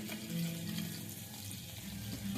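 Chopped onion dropped into hot oil for a Bengali mustard fish curry, a steady close sizzle of frying with a brighter crackle swelling now and then, no voices.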